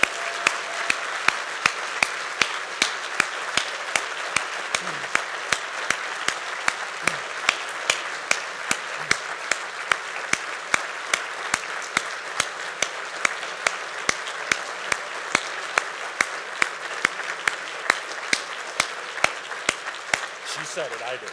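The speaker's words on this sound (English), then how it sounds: "Let's give her a big round of applause" An audience at a business chamber breakfast gives a long, sustained round of applause for a retiring member. It stays loud and even for about twenty seconds, with sharp, regular claps standing out from the crowd.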